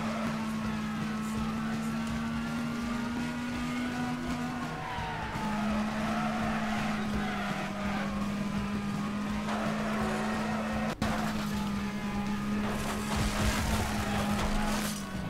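Demolition race cars in the Wreckfest video game skid on the final lap at Hilltop Stadium, a constant engine drone under tire squeals and scraping, with one brief sharp knock.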